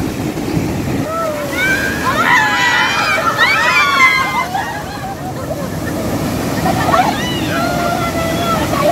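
Strong ocean waves break and wash on an Ilocos beach, a loud, continuous roar of surf with wind buffeting the microphone, while people talk and shout excitedly over it.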